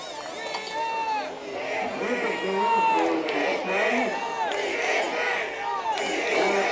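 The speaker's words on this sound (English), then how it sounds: "Crowd is really getting into this game now" A high school football crowd in the stands cheers and shouts, producing a swelling roar of many voices throughout, with a commentator speaking clearly over the noise.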